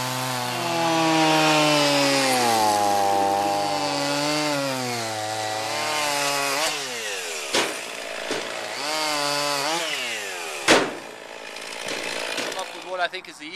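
A chainsaw cutting and shaping a log for a bench runs loud and close, its engine pitch climbing and sagging as it revs, with the cut turning rougher and more broken toward the end.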